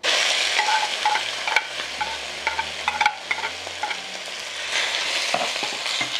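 Beef steak sizzles and fries in hot oil inside a heated clay cazuela, a steady dense crackle with light stirring and utensil clicks throughout, close and fairly loud.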